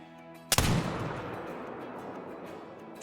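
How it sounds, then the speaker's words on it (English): A single sharp, loud report from a .50 caliber muzzleloader fired at a raccoon in the hunting game Call of the Wild, followed by a long rolling echo that fades over a couple of seconds. "we're about to go for a 200 yard shot on that raccoon right there"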